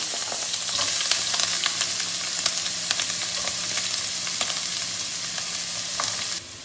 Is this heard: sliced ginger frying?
yes